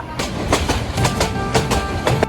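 A passenger train on the Mymensingh to Dhaka line runs along the rails, its wheels beating out a repeated clickety-clack rhythm of sharp, evenly spaced knocks over a steady rolling rumble, heard from inside the carriage.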